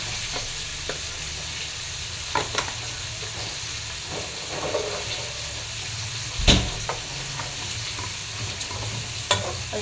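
Rice sautés with salt and cumin in a pot, giving a soft continuous sizzle broken by several sharp scrapes and clinks of stirring.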